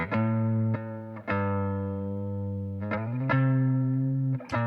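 Electric guitar heard through a Universal Audio LUNA recording setup, struck in a handful of sharp picked notes and chords that ring out and sustain between attacks, close and clear with no talking.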